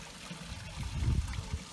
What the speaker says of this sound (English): Don't you just love the sound of running water?